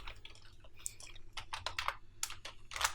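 Rapid, irregular keystrokes of someone typing code on a computer keyboard, close and clear over a low background hum, with no talking.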